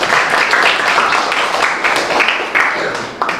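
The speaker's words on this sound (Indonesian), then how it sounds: "kita kasih tepuk tangan dulu untuk pasukan" A classroom of students claps together for their group, a lively burst of dense applause that stays strong before tapering slightly near the end, with faint voices underneath.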